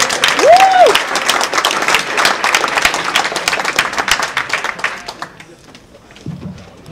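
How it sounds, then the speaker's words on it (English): Conference audience in Berlin gives a speaker a round of applause, dense clapping that thins out and fades toward the end, with a brief voice and a whistle-like tone near the start. "round of applause for David Calvo."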